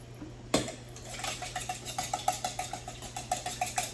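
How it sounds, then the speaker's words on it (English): Olive oil being whisked into a homemade salad dressing for a warm beet salad: quick, rhythmic metal-on-bowl clinks and taps, fairly faint, after one sharper knock. "now we're going to whisk in some olive oil"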